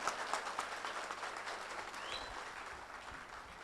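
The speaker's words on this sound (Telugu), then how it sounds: "వీళ్ళందరికీ ఇంకా పెద్ద చప్పట్లు కొట్టవలసిందిగా కోరుతున్నాము" An audience at an Ugadi celebration of the Oman Telangana Samithi gives a faint, distant round of steady clapping after a stage performance.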